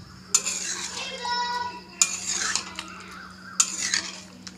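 A spoon stirs thick chicken gravy in a metal pot, with three sharp clanks against the pot, each followed by scraping and thick, wet swirling, close and fairly loud over a low hum.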